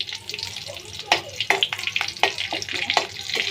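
Cumin seeds, dried red chillies, slit green chillies and a bay leaf fry in hot oil, a steady crackling sizzle broken by sharp pops and spits, close and fairly loud.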